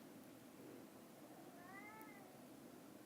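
A single drawn-out meow from a pet cat, faint and slightly distant over a constant background hiss.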